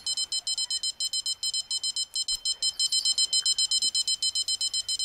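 In the Fishing Planet video game, a fishing rod bite alarm sounds at Saint Croix Lake as a rapid series of evenly spaced, high electronic beeps, continuing steadily throughout over faint background noise.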